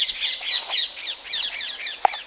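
Parrots in date palm trees on Gran Canaria give a busy stream of high chirps and squawks, close and continuous, with one sharp louder call near the end.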